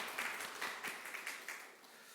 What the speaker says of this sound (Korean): 이 시간 어머니들께 다시 한번 큰 박수로 우리 감사를 표현하셨으면 좋겠습니다.